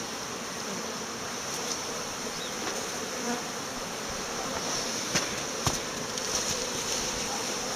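Honey bees fly around a beehive in February, giving a steady, dense buzzing hum throughout with no speech, joined by a few faint clicks and brief passing buzzes.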